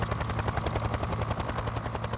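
A helicopter's rotor chops in a fast, steady rhythm, loud and close, holding an even drone throughout.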